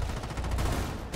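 Gunfire in Rainbow Six Siege, a quick burst of rapid shots in close succession, punchy and fairly loud, lasting about a second with no talk over it.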